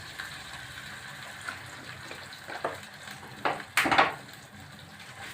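About a cup of water poured into cooking mince, giving a few short gushing splashes near the end over a low background hiss of the pan.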